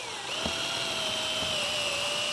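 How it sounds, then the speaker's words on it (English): A power drill with a step drill bit bores into the center of a plastic bucket, a steady high whine with a slowly shifting pitch lasting throughout, close and loud with no talking. "You can literally just find the center of the bucket and drill straight into it."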